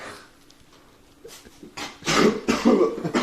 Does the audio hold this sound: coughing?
yes